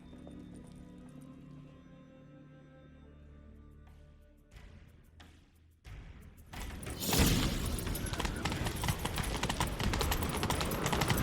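In The Witcher 3: Wild Hunt, a horse's hooves clop at a gallop that builds into a loud, steady rush of galloping and wind-like noise, with a few sharp knocks before it.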